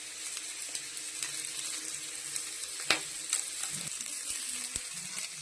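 Green chillies and coriander frying in a pan, a steady soft sizzle running throughout with a few sharp clicks and taps from stirring, at moderate closeness and no talk.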